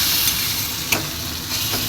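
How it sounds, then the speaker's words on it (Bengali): Ground spices and grated ginger sauté in a hot pan for chhana kofta, giving a steady close sizzle broken by a couple of brief stirring scrapes. "দিয়ে আমি একটুখানি কষিয়ে নেবো"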